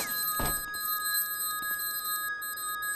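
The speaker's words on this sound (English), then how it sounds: "They're hitting the vending machines, which is making the alarm go off." A vending machine alarm in the video game Cataclysm DDA rings as a continuous electronic bell-like tone, loud and steady throughout, with a brief sharp hit near the start.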